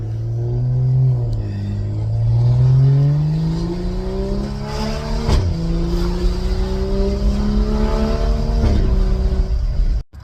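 BMW 535i 3.0 turbo engine heard from inside the cabin, revving up through the gears in a loud rising drone with brief drops at shifts, continuous and close.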